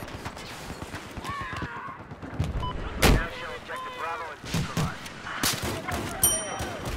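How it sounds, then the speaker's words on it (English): An RPG blast and gunfire in the video game Battlefield 2042 arrive as a few sharp, loud explosive cracks spread over several seconds, mixed with scattered smaller shots and game ambience. "I hit it with an RPG!"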